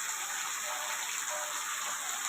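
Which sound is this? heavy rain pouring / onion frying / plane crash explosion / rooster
heavy rain pouring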